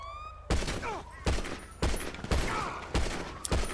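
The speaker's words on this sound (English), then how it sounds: "Alright, now that I got a cop here to shoot me." Gunfire from a police officer in a GTA roleplay video game: several loud, sharp shots in quick succession at irregular intervals, each with a brief ringing tail, up close.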